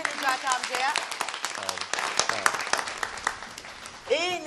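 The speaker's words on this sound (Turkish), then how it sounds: "alkış be Necati amcaya" Studio audience at a television matchmaking show claps in bursts, with crisp individual hand claps mixed into the applause while people talk and laugh over it.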